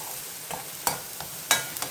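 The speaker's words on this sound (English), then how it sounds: "Now I'm going to just fry this lettuce" Bottle gourd frying in a pan with green chilies, a soft steady sizzle broken by a few sharp stirring clatters and scrapes, no voices.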